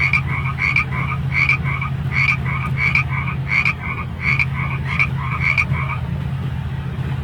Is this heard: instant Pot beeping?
no